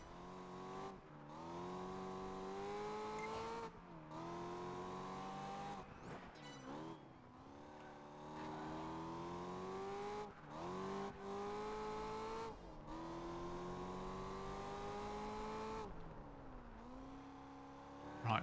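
A race car driven in Project Gotham Racing 4, prone to oversteer, holds a steady high-revving engine drone through repeated gear shifts with brief dips and tire squeal, and a voice talks faintly underneath.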